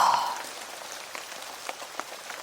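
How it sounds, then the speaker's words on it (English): Steady rain patters and drips on a surface, a soft continuous wash with scattered sharper drop taps, fairly quiet and with no voices. "And I just put my head up to the sky and close my eyes and just let the rain wash over me."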